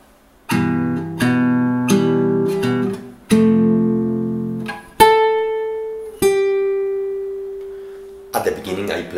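Fingerstyle acoustic guitar plays the last four notes of measure 11 and measure 12 of a piece from Kung Fu Panda: a handful of plucked notes and chords ringing out one after another, the final note sustaining alone.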